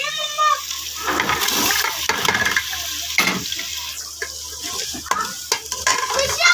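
Chicken sizzles and fries in a pan with onion, garlic and ginger while a utensil stirs and scrapes, with faint running water and background voices.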